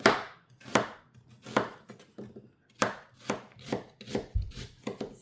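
A knife slices through onion on a cutting board set on a dining table, giving a series of crisp, close chops in an irregular rhythm, loud and alone with no talking, as onions are prepared for a box of homemade kimchi.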